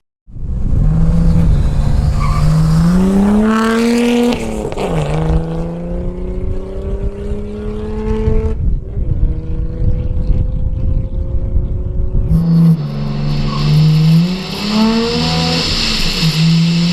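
A Nissan Skyline R33 GT-R engine revs hard and accelerates through gear changes, loud and close, pausing briefly before roaring up again.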